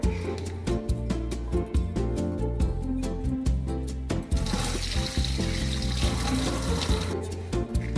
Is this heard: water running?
yes